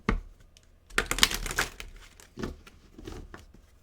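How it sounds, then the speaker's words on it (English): A deck of tarot cards is shuffled in bursts of crisp riffling and crinkling papery flicks, with quiet pauses between the handling sounds, close and fairly soft. "I'm going to shuffle the deck and see if it comes out."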